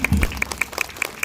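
Applause from a parade audience at an Independence Day ceremony: a brief, steady round of clapping with regular sharp claps, moderately loud and fairly close, with no voices over it.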